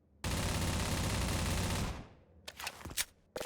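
A sustained burst of automatic fire from the AR-1 rifle in Half-Life 2, loud and close, running nearly two seconds before cutting off, followed by a few sharp mechanical clacks and a final hit.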